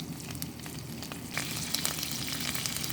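Ginger garlic paste hits melted butter in a pan and sizzles densely up close, the crackle and spatter growing a touch louder partway through the short stretch.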